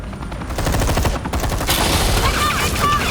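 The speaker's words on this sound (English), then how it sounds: "You cops can't just shoot people like that!" Police opening fire in a Batman video game, a dense burst of loud gunshots hammering almost continuously for about three seconds, with shouting voices mixed underneath.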